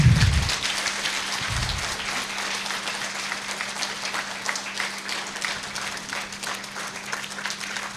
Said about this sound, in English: And I want us to continue clapping for them